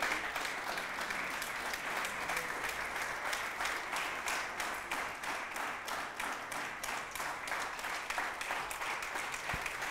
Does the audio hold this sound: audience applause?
yes